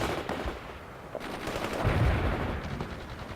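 Gunfire and explosive thuds rumble through a World in Conflict real-time strategy battle, with a dense, fairly loud mix of bangs and low booms, the heaviest blast near the middle, no voices.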